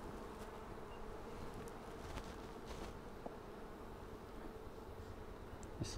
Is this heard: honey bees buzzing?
yes